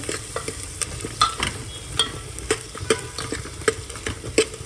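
Chana and potatoes are stir-fried with masala in a pan. A spoon scrapes and stirs in a repeated rhythm over a constant close sizzle, and nobody speaks.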